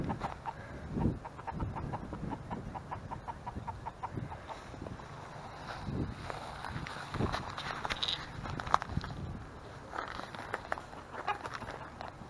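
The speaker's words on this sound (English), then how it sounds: "We got hens going in the nest." Hens on the nest cluck in a soft, rapid, repeated patter that runs throughout, mixed with footsteps and shuffling nearby at a fairly low level.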